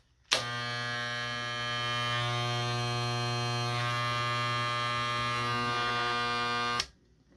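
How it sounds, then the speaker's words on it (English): A corded ConairMAN electric razor switched on and running for about six seconds, giving a steady, loud, buzzing motor hum that starts and stops abruptly, heard close with no talking. "It is an entirely corded electric razor"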